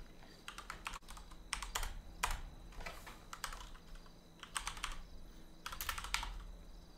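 Bursts of typing on a computer keyboard in a game office setting, clustered clicks coming in short runs with pauses between, fairly close and alone over a low steady hum.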